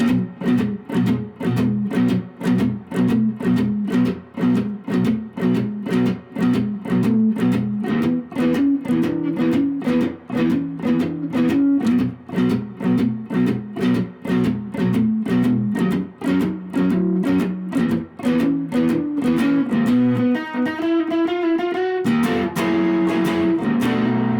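Electric guitar plays a steady, rhythmic blues riff of repeated notes, closing with a brief rising turnaround lick and a final ringing chord.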